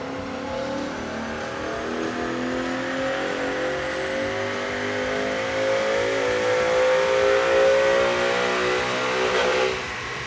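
A 2011-2014 Mustang GT with Kooks 1-3/4-inch long tube headers and a catted X pipe roars steadily on a dyno, its pitch climbing through a long continuous pull before cutting off near the end.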